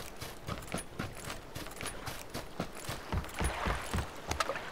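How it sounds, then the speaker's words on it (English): Footsteps in the game PUBG, a steady run of crunchy, clop-like steps at moderate loudness with no talk over them, growing slightly louder toward the end. "I hear footsteps."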